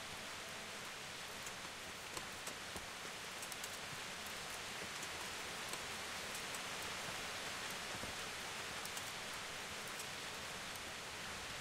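Rain falls steadily in the video game Kingdom Come: Deliverance, a soft, even hiss of a shower that stays constant and fairly faint throughout, with no talking.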